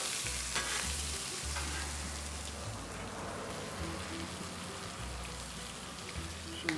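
Asparagus frying on a Blackstone flat-top griddle, a steady close sizzle and crackle running throughout with a low hum underneath and no talking.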